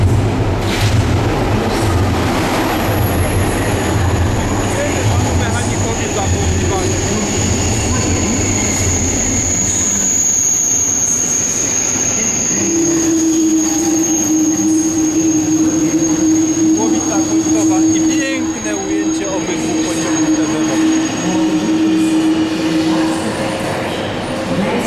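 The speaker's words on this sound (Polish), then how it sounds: "Teraz TGV do Paryża." A TGV high-speed train at Antwerp Central station, loud and close, with a steady rumbling roll, wheel noise and a sustained high squeal, alongside a long electric tone that holds in the middle of the passage.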